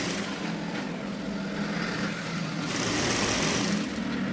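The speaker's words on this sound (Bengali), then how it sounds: "দুটোকে অ্যাটাচ করে এবার আমি এটাকে ধরে সেলাই দিয়ে দেবো।" Sewing machine stitching the seams of a size-40 bra-cut blouse, running as a steady, continuous mechanical whir at close range, alone with no talking.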